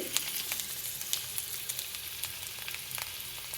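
Stuffed beetroot and tomato fry gently in a pan over low heat, a steady soft sizzle dotted with small crackles and pops. No voices are heard.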